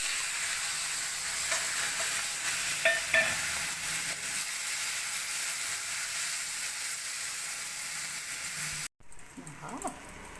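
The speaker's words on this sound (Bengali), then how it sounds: "চিংড়ি মাছগুলো ভাজা হয়ে গেছে" Shrimp frying in an oil-filled pan give a dense, steady sizzle for about nine seconds. The sound cuts off abruptly, then comes back quieter with a few faint knocks.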